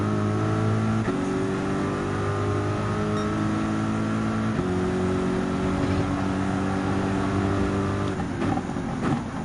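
Race car engines in Gran Turismo 7 hold a loud, steady drone with sustained high revs. Pitch steps shift as gears change, and a car passes near the end.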